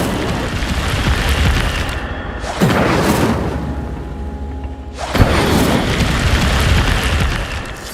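Fire spell cast in Hogwarts Legacy, with two loud whooshing bursts of roaring flame, each swelling suddenly and crackling on for a couple of seconds over steady game ambience; no talking.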